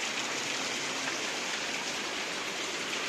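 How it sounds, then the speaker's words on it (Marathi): Heavy monsoon rain pours steadily outdoors during Ganpati festival preparations, a dense, even hiss of drops on surfaces that fills the whole stretch without pause or voices. "पाऊस का थांबण्याचं नाव घेत नाही."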